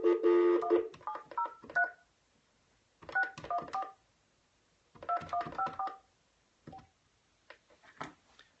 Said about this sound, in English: Let me make another dial now here